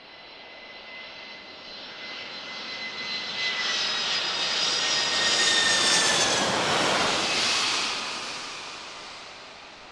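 An Airbus A380 lands at Miami International Airport in a hard touchdown, its engine roar and whine swelling steadily to a loud peak mid-way before easing off slightly, sustained and close with no voices.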